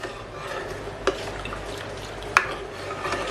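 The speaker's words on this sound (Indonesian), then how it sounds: "Yang penting di step ini kita aduk terus, jangan ditinggal sama sekali." A spoon steadily stirs a thickening mixture of sago pearls and hunkwe flour in a pot, making a soft wet scraping with two sharp clinks against the metal. Close and quiet, with no voices.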